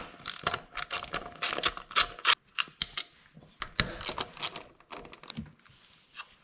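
A ratchet wrench loosens 10mm bolts from the bypass valve on a top-mount intercooler of an 08-14 Subaru WRX, giving close, loud bursts of rapid clicking ratchet strokes with brief pauses between.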